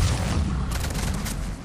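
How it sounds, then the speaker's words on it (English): Biotic explosions in the video game Mass Effect 3 rumble as a dense, continuous barrage of booms and blasts, loud and unbroken throughout. "the biotic explosions do take care of those guys quite nicely"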